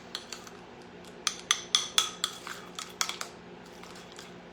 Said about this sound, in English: And that's it, you stir it up.